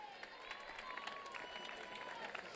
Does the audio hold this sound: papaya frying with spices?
no